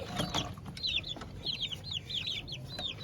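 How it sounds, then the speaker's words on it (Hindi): Chickens cluck and chatter in short repeated bursts over a steady background hum, with a few sharp scratching noises, as roosters fight nearby. "ये देख वहाँ पे भी मुर्गे दोनों लड़ रहे हैं।"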